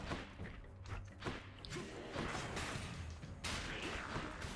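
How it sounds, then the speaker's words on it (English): Explosions in the video game Hades, a string of dull thumps and crashing bursts at moderate level, several impacts spread across the moment with game noise between. "I just gotta watch out for that explosion."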